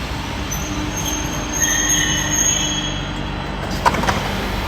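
A train arriving at Madrid Atocha railway station rumbles steadily close by, with long high wheel squeals sustained over the low rolling noise and a brief sharp clank near the end.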